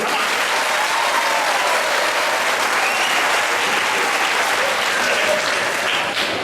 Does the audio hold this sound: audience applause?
yes